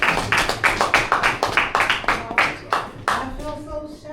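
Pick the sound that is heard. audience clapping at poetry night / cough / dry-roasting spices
audience clapping at poetry night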